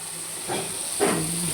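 Big prawns sizzle in a pan with turmeric, a steady steam hiss with two louder bursts of frying.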